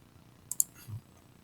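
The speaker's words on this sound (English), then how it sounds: "we're gonna call this part three, and then we're gonna click Save" Two quick, close mouse clicks saving a file on a computer, faint and sharp against quiet room tone, followed by a soft low thump.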